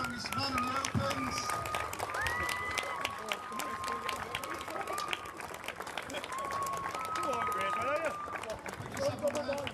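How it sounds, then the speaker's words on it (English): An audience claps for competitors at a Yorkshire's Strongest Man strongman contest, continuous applause with voices and crowd noise mixed through it. "Can you have a big round of applause for our Yorkshire's strongest men in the Opens?"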